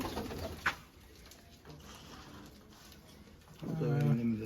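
Pigeons coo softly nearby, with a brief sharp knock early on and a louder burst near the end.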